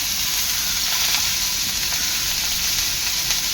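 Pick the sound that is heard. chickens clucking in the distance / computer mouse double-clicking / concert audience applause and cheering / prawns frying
prawns frying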